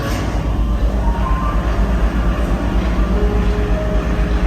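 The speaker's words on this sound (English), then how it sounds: "Let's start the conveyor belts." Steady low mechanical rumble with a continuous droning hum, loud and unbroken, from copper mine conveyor belts running without pause.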